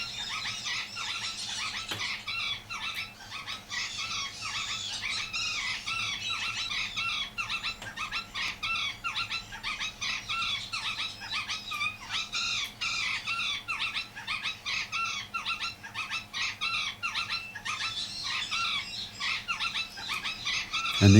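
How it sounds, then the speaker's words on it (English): A breeding pair of Queen of Bavaria conures squawk and screech in rapid, repeated bursts, a loud and steady chorus of harsh calls running without pause. "That's my breeding pair of Queen of Bavarian conures."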